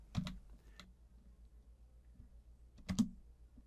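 Keystrokes on a computer keyboard entering AutoCAD commands: a short burst of clicks at the start, a lone tap near one second, then a brief double press close to the end, with near silence in between.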